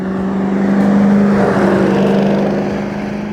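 Deep, steady rumble of a 1959 Chevrolet Corvette convertible's 327 V8 with dual quads and a 4-speed, idling close by with a strong even hum that swells slightly midway.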